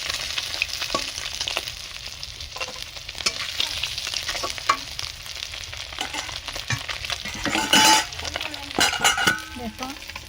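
Pieces of rohu fish fry in hot oil with a continuous crackling sizzle, close and fairly loud, punctuated by sharper spits and bursts of spatter toward the end, no voices.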